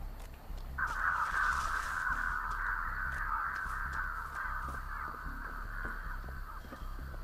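Crows caw in the video game Dead by Daylight, a harsh raspy cawing that carries on steadily over several seconds against low ambient game noise.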